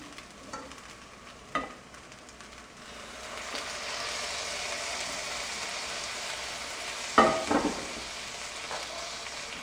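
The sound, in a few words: pork pieces sizzling in pan, mixed with morocho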